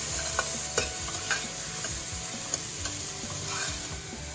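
Shredded carrots cook in a soup pot for cauliflower soup, a continuous soft sizzle with light scraping and occasional small clicks from stirring, fairly quiet and close.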